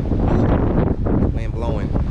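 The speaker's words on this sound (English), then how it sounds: "wind blowing." Strong outdoor wind rushes and buffets a microphone steadily, loud and close throughout, with no pauses.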